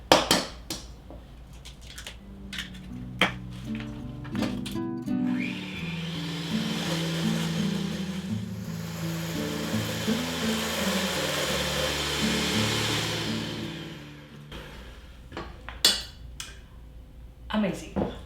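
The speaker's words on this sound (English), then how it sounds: "bear with me while I'm adding the eggs one by one, and then beat them up, mix them up" Eggs beaten one at a time into hazelnut cake batter with an electric mixer, a steady whirring motor drone running nearly continuously with occasional clinks against the bowl.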